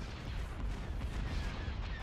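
Weapons fire against torpedo launchers in the space battle game Thrawn's Revenge: Imperial Civil War, a dense continuous rumble of distant booms and blasts throughout, no talk.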